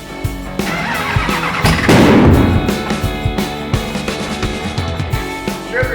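A rebuilt car engine being fired up: loud cranking with a rough, sputtering catch and surge, followed by uneven popping and rumbling idle close by.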